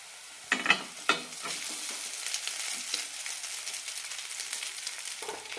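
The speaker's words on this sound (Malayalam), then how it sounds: "ഇനി ഇതിലേക്ക് ചോറ് ചേർക്കാം." Cooked rice is stirred into fried onions in a hot pan: a few sharp scrapes of the spoon up front, then a steady close sizzle with light scraping and no voices.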